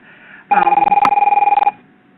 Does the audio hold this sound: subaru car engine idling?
no